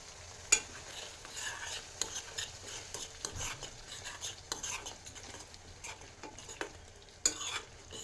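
Gravy for bhugda bateta sizzling after a spoonful of water is added, a quiet, crackling fry with repeated clinks and scrapes of a spoon stirring in the pan; no speech.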